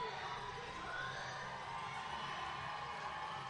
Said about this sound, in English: The crowd getting very, very lively here on track 1.